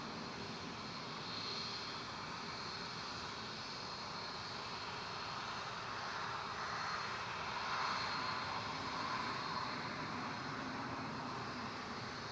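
A small aircraft at Newcastle airport on a hazy day, giving a steady, fairly faint broadband engine roar that holds evenly throughout with a slight swell toward the end.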